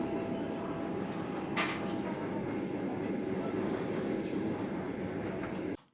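A long train rolling along the Trans-Siberian railway, a steady rumble of wheels on track with a brief screech partway through, heard from on board before the sound cuts off.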